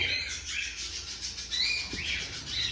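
Pet bird chicks chirping at feeding time, a steady stream of high, thin cheeps and tweets continuing close by without pause, with no talking.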